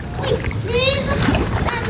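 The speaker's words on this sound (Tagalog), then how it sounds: "Yan, diretso ang tubig dito hanggang doon." Floodwater in a flooded village street in Banilad, Pinamalayan, Mindoro, splashing and sloshing steadily at close range under a voice and other people talking.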